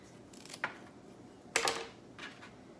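A blade cutting rot from a dahlia tuber: two or three quiet crisp snips or slices spaced apart, close by, with the strongest cut near the middle.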